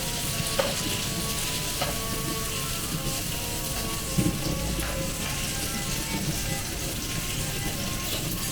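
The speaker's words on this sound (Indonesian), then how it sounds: "ada bawang, ada tomat, ada bawang merah, ada bawang putih. Kita masukin dulu ke wajan itu," Onion, shallot, garlic and tomato sizzle in a hot pan, a soft steady frying crackle with occasional stirring scrapes and taps, close and fairly quiet, no talk.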